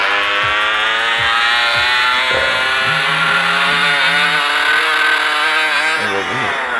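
A small dirt bike engine revs steadily and loudly in the game Gangster Vegas, a buzzing motor tone that holds throughout with slight pitch rises and falls, no voices present.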